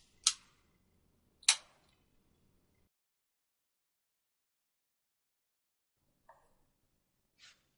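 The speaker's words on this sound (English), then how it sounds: "When successfully installed, you will hear a click." A click from an NRX circuit breaker indicator part snapping into place, heard as two sharp, close clicks in near silence, followed later by two fainter, softer ticks.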